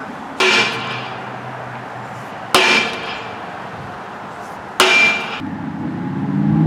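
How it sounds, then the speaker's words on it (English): A hammer strikes a bent axle three times to beat out a ding, each a loud sharp metallic clang with ringing decay, spaced about two seconds apart, close and without talk. "Now we're gonna try to beat that ding out."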